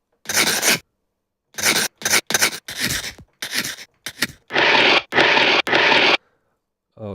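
Sandpaper scraped across a plate in a beat-making session, a series of close, loud, harsh rasping strokes, some short and quick, others longer and sustained, separated by silent gaps, with no talk.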